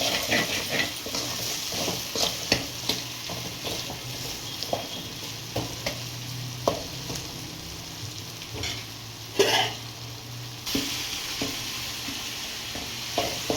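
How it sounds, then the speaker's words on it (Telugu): Tomatoes are mashed and stirred in a pan for pomfret fish curry: an irregular series of spoon taps and scrapes over a soft, steady sizzle, with a brief louder hiss midway. "సో ఆ టమాటాలు నలుపుతున్నారు ఇంకొంచెం మిక్స్ అయ్యే విధంగా."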